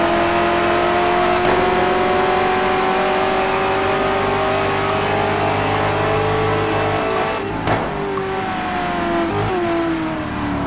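GT1 race cars lapping Sebring in a racing video game, several engines droning loud and steady with rising and falling pitch as they pass through a turn onto the back stretch.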